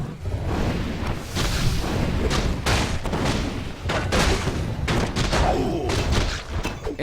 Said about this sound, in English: the tank's hitting at all of the Night Elf air here